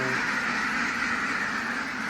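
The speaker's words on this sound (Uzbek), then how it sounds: "O'rdaklarni hozir tashqariga chiqaramiz." Ducks quacking as a flock is let out of their pen outdoors, a dense, continuous nasal chatter of many birds close by throughout.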